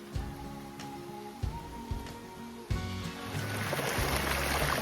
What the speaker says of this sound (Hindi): ये बहते पानी की आवाज